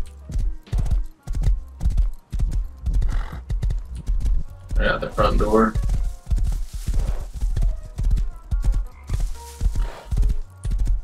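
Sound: horse galloping in a video game

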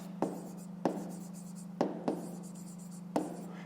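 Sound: writing on paper

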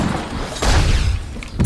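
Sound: flashbang explosion in video game The Suffering

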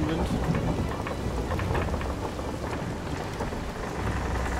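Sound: storm with rain and thunder in Sea of Thieves video game

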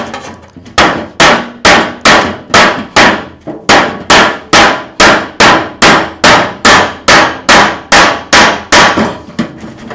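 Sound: cutting a pattern into an empty tin oil can

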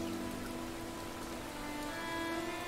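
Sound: rain falling on a town, from the video game Rain

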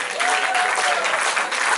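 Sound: audience applause at stage show

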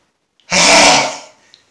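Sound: loud uncovered sneeze

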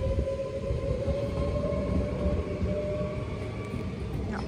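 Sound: train departing station

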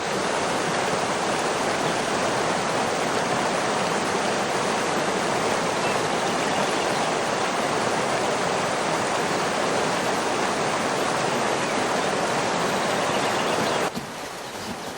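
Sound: rushing river water

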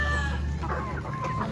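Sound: chickens clucking at a poultry farm

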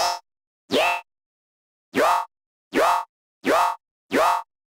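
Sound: synthesized yoink sound effect with frequency sweep

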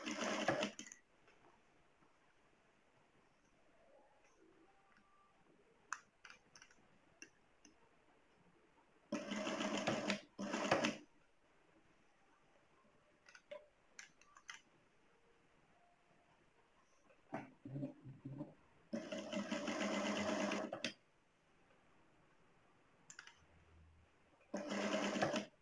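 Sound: sewing machine stitching fabric

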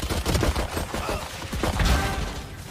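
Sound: gunfire from the video game Valorant

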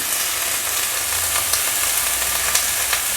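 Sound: vegetables frying in pan with mustard and turmeric

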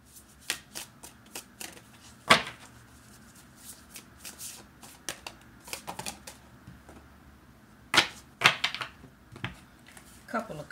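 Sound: tarot cards being shuffled

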